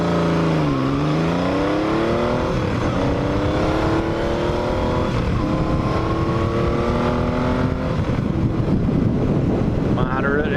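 A 1980 Yamaha XS850 Special motorcycle pulls away from idle under moderate throttle, its engine note climbing through the gears under steady wind rush, heard from the rider's position.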